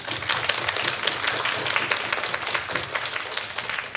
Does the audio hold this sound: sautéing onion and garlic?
no